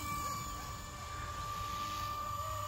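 A Blade 230s RC helicopter flies at a distance, giving a faint, steady whine with a thin rotor hum and no talk.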